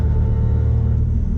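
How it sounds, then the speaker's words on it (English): Porsche 944 exhaust rattling while driving, a loud, close, low droning engine rumble with a buzzing metallic vibration running throughout, alone without talk. "That exhaust rattle is driving me nuts."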